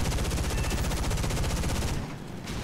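Guns of an F-80C jet in War Thunder fire in a fast, loud continuous burst for about two seconds, then drop away into engine noise.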